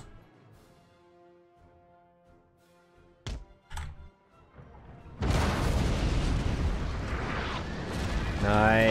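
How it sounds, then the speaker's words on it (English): An explosion in Napoleon Total War bursts in as a loud, sustained broadband roar after a few faint thuds and tonal music. The blast lingers for several seconds at full strength. "there it's gonna explode"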